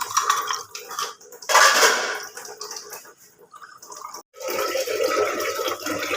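Dishes being washed under running water, with gushing tap bursts and clattering pots and utensils, close and intermittent, briefly quiet in between.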